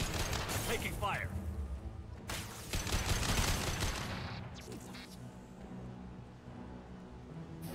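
Mass Effect 2 combat gunfire: sharp, cracking shots and a sustained loud volley fill the first half, then fade into quieter rumbling, with a voice speaking over the action.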